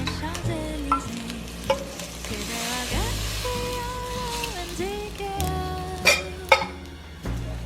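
Beef broth hitting a hot pan, giving a steady sizzling, bubbling hiss with occasional clinks and stirring, under tonal background music.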